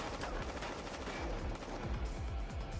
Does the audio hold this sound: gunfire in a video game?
yes